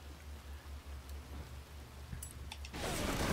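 Rain hisses steadily during a race in the Forza Horizon 3 video game, with a low pulsing engine rumble beneath it and the downpour growing louder and denser near the end.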